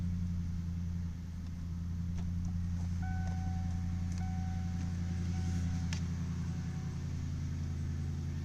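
A car engine idles steadily with a low, even rumble, and a few faint high beeps chime partway through.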